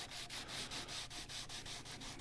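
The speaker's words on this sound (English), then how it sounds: "I've just got a sanding block and some 400 grit" Sanding block with 400 grit sandpaper rubbing the clear coat on a Gibson ES335 guitar headstock, close and steady, with rhythmic back-and-forth strokes about every quarter second.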